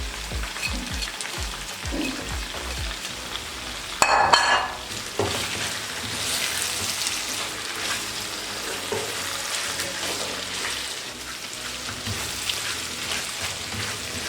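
Spices frying with softened tomatoes on a tawa while making mutton chops: a continuous sizzle and crackle with a brief louder burst of stirring early on, then steady frying alone without talk.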